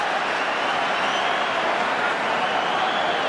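A rugby stadium crowd at a Wales versus New Zealand test match roars in a dense, steady wall of cheering noise without a break.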